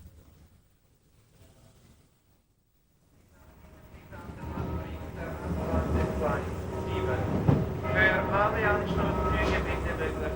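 An old Swiss electric Crocodile locomotive leaves Chur hauling a mixed passenger and goods train on the Albula Line. Near silence gives way to a deep rumble that swells and grows loud, carrying a rising motor whine.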